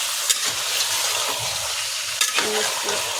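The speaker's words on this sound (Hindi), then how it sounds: "इसको अच्छे से भूनेंगे। उसके बाद में डालेंगे अदरक लहसुन का पेस्ट।" Chicken sizzles and fries in a hot pan while a spoon stirs it, with a few sharp scrapes and clinks against the metal, a steady close-up crackle with no talk.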